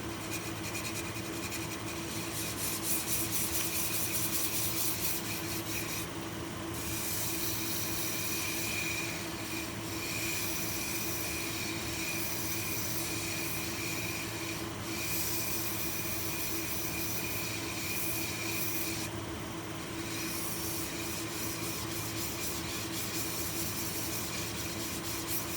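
Sanding with 240 grit sandpaper gives a quiet, continuous scratchy rasp with faint rhythmic strokes and brief pauses, heard alone without talk.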